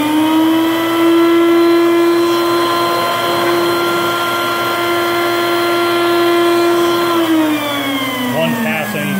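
A Tensilkut II machine cutting an ASTM D638 tensile sample gives a loud, steady high-pitched whine from its spinning cutter, holding one pitch for about seven seconds before winding down, with background noise underneath.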